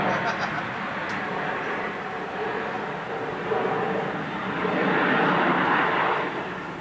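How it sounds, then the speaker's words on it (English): A large airplane passes overhead, a broad steady roar that swells toward the end and stays loud throughout, with a faint voice underneath. "It's a big airplane to fly by the screen."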